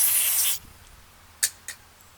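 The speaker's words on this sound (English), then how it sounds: "I like to spray them out then because I'm not the cleanest." Carburetor cleaner sprays onto Honda push mower carburetor parts: a loud half-second hissing burst, then quiet, then two short sharp spritzes close by.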